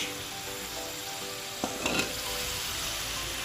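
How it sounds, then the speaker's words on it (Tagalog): Potato and carrot pieces frying in oil in a wok for Pampanga-style pork menudo, a steady close sizzle with a couple of brief utensil knocks partway through and no voices. "Piprituhin muna natin yung uh, patatas at carrot."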